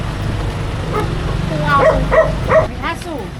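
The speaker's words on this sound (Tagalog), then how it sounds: "May aso." A dog gives a few short barks and yips close by in a Philippine neighbourhood, three quick bursts in a row amid people chatting nearby.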